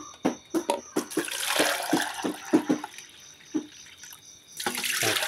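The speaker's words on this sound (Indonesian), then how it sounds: "berikutnya kita akan menyediakan air sebanyak 3 gayung seperti ini" Water poured with a dipper splashes into a container, about three gentle pours in a home kitchen while coconut milk drink is prepared, fairly quiet and close, with no talking.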